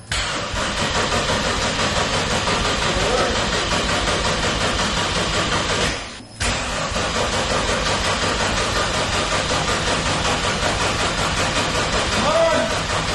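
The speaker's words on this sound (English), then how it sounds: "I haven't heard this car start in so long" A turbocharged M50-engined BMW E30 runs loudly and roughly at idle, with a brief dip in the middle before it picks back up; voices can be heard over it.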